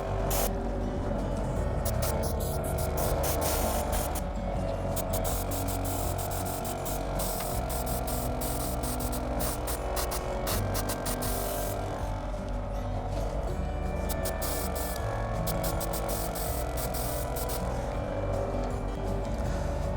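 An airbrush sprays grimy frame-dirt weathering paint onto the body sides of a Dapol Class 29 model locomotive, giving a steady airy hiss with faint clicks throughout.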